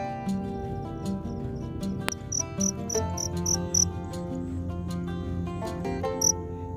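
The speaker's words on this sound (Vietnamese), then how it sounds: "Ngày này con nó gáy nha các bạn." Dế dầu, a long-antennaed field cricket caught in the morning, chirps steadily outdoors in high repeated pulses, with other insects trilling in the background and no talk over it.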